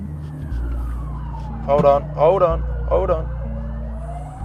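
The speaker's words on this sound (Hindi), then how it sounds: "एम्बुलेंस।" An ambulance siren wails outside, its rising and falling tone sweeping in the background while someone talks over it in the foreground.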